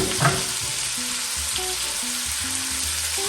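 Celery, shallots, parsley, rosemary and thyme sizzle steadily in a hot pan for a pot roast, a continuous close frying hiss with a few soft knocks from stirring.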